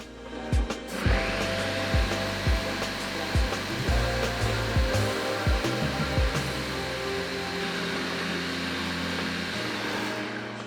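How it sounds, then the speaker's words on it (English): Food processor whirring on high speed as it grinds marzipan, starting with several sharp knocks and jolts from ingredients hitting the blade, then settling into a steady loud motor roar. "I do think a food processor is best for making marzipan. So just as I run the machine on high speed"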